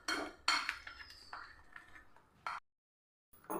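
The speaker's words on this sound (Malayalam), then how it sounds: "ഒരു വിസ്ക് വെച്ച് നമുക്കൊന്ന് മിക്സ് ചെയ്തെടുക്കാം" A whisk clinks and scrapes against the bowl while mixing jackfruit batter, several quick metallic taps and swishes up close, then a pause of silence before one more brief stroke.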